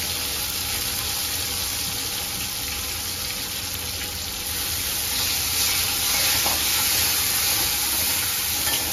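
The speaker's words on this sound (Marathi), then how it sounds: "अशा प्रकारे कांदा थोडा लालसर होईपर्यंत परतवून घेणार।" Onion and tomato sauté in oil in a pan with a steady, close sizzling hiss that grows slightly louder partway through. No voices are heard.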